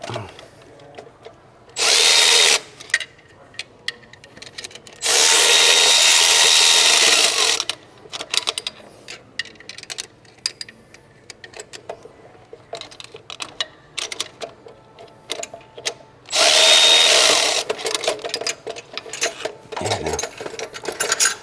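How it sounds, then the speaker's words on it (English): Power 1/4 inch ratchet straining on an exhaust bolt of a 2012 Alpina, sounding in three loud whirring bursts of a few seconds each, separated by quieter clanks and handling noise. "has no power for the torque that is needed now. It's just a 1/4 inch ratchet."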